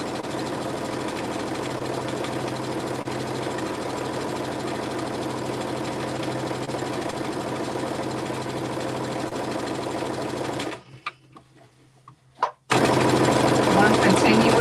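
Home sewing machine runs one continuous stitch down a seam while converting a top and pants into shorts, a steady close mechanical whir for about ten seconds, then a pause before it starts up again.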